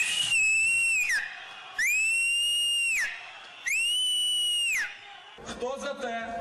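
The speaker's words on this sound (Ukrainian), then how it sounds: "Товариство, ну давайте разом посвистимо." Crowd at a protest rally whistling together in three long, loud, sustained bursts with short pauses between, followed by scattered voices and noise.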